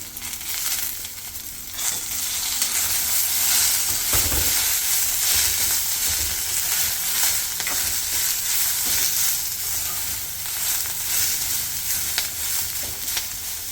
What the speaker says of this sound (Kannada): ಇದಕ್ಕೆ ಈಗ ಇದ್ರ ಜೊತೆಗೆ ಕೊತ್ತಂಬರಿ ಸೊಪ್ಪು ಮತ್ತು ಪುದೀನ ಹಾಕ್ಕೊಂಡು ಸ್ವಲ್ಪ ಫ್ರೈ ಮಾಡ್ಕೊಂಬಿಡೋಣ